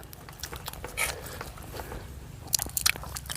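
Faint, close crunchy bites and chewing of a spicy Thai salad with lemongrass come in a few short bursts, with quiet pauses between them.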